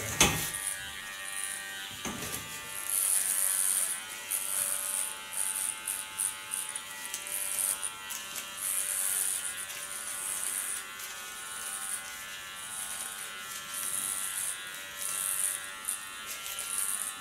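An electric hair clipper fitted with a 2.5 mm comb buzzes steadily against the nape of a woman's neck, a close, continuous whirring drone that swells and dips slightly as the blade passes over the hair.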